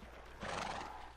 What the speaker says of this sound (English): Come on, you stupid horse!